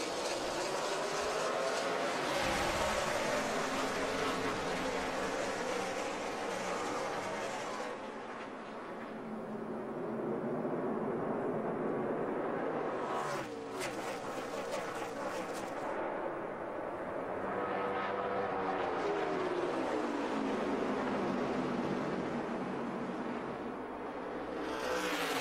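NASCAR stock cars roar past at the 2012 AdvoCare 500, a dense, loud engine drone that swells and fades as the pack passes, dropping briefly then surging again near and far.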